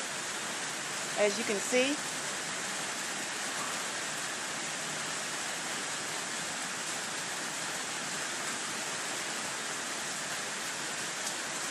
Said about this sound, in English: But we're safe from the rain.